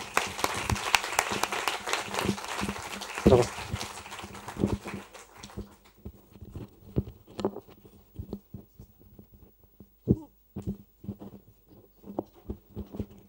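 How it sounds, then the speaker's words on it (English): Audience applause for startup pitchers at an innovation lab finale, starting as a dense crowd clap that thins within a few seconds into scattered individual claps that trail off. "one round of applause for both for the pitchers and Daniele"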